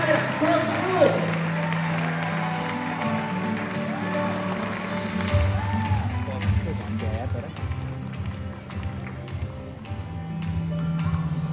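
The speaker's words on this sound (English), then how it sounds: "Please give a big round of applause for Scrappa." Audience applauding at a crocodile show at Australia Zoo, a steady wash of clapping from a crowd, with a voice talking over it throughout.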